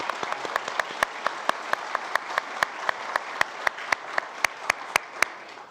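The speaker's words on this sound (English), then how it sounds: "So a big round of applause for the" Applause at a county board of commissioners meeting, scattered clapping from a modest crowd with a few loud, sharp individual claps standing out in an irregular rhythm.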